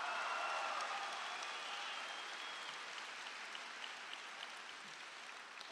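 An audience applauds graduates at an engineering recognition ceremony: a steady, fairly faint wash of clapping that holds for the whole stretch and thins slightly toward the end, with no voices over it.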